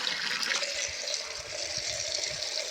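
Water is poured onto young mango tree plants outdoors, making a steady, continuous splashing rush at moderate level.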